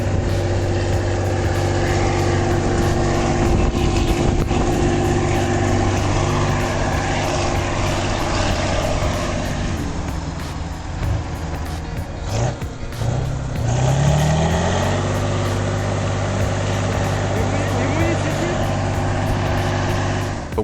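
A YaMZ V12 diesel engine rated at 300 horsepower drives a logging truck stuck in mud, a deep steady drone that dips and then revs back up, with a voice talking over it.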